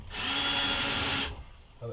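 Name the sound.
power drill drilling during RV wiring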